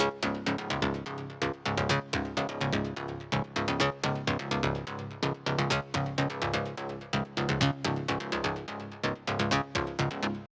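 A plucky detuned saw-wave synth bass patch made in Sylenth, with filter modulation, plays alone in a progressive trance remix. It repeats as fast, evenly spaced, punchy staccato notes with sharp attacks and short decays.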